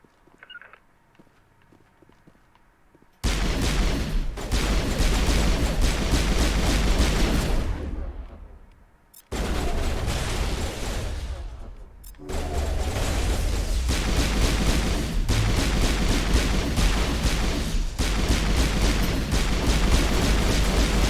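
Gun turrets firing in the Mass Effect Legendary Edition video game, loud sustained bursts of rapid gunfire and booms with brief gaps, starting after a quiet moment.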